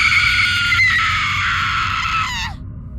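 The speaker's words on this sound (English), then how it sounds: "all she could manage was to release a shriek of terror" A woman lets out a long, loud, high shriek of terror that holds steady for over two seconds, then breaks off sharply into silence.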